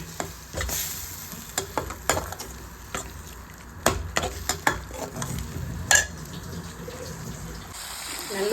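A masala curry cooks in a pan with water added, a spoon scraping and stirring in repeated strokes over a steady sizzle and bubbling simmer, close and moderately loud.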